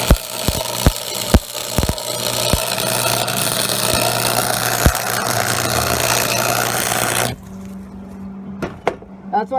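The engine of a Lincoln stick welder runs at a loud, steady idle after being cranked up, with sharp knocks and clunks scattered over it, then cuts off abruptly near the end, leaving a quieter hum and a few clicks.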